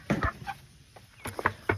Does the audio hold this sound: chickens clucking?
yes